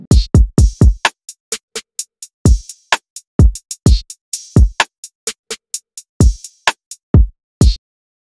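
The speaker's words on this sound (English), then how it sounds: "The drums all together would sound like this." Full chill trap drum pattern: booming 808-style kicks with descending pitch, crisp snares, ticking hi-hats and occasional open hat splashes in a bouncy, syncopated groove, loud and close with no voices.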